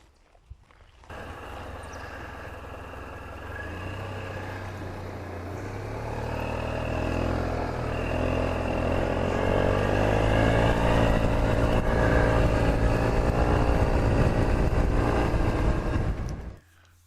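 A Suzuki Burgman 400 scooter's engine runs steadily, its droning note swelling a little after a few seconds and holding fairly loud to the end, with no talking.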